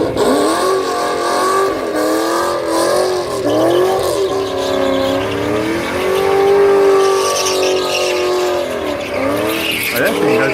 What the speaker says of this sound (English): So I'm going to show you that burnout right now.